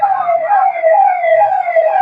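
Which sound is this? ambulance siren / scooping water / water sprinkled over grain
ambulance siren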